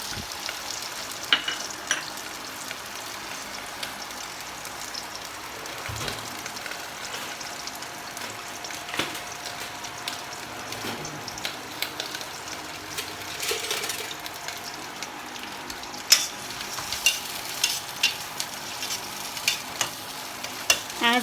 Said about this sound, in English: So for that I am frying 1 big slice of onions.